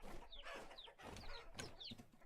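Chickens clucking in the video game Vintage Story, several short rising clucks close by over a busy background murmur.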